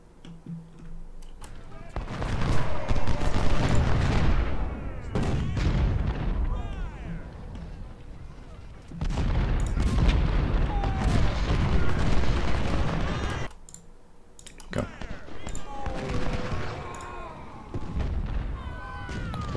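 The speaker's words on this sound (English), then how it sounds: "So many cannons." Cannon artillery in Ultimate General: Civil War booms in repeated heavy volleys with rumbling bursts and sharp reports layered in dense waves, while someone talks over the battle.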